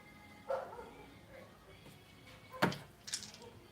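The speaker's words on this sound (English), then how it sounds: "Hear the dog bark." A dog barks a few times, faint and somewhat distant, with short separated yips against a quiet background.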